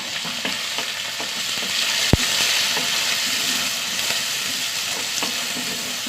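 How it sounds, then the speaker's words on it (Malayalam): Small shallots and green chillies fry in a pan with a steady, close sizzle that hardly varies, broken once by a sharp knock of a utensil. "ചെറിയുള്ളി ഒന്ന് വഴണ്ട് വരട്ടെ."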